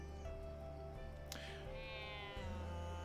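Cats meow in The Good Life, a game with cats and dogs roaming a town: a couple of clear, drawn-out meows over a steady low background hum and faint game music.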